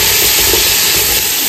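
Curry leaves, green chilies and tomatoes fry in a pan with a loud, constant close-up hissing sizzle, steady throughout with no talk.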